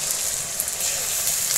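Ginger and garlic paste hits hot oil in a home kitchen, giving a loud, steady hiss and sizzle close up with no pause.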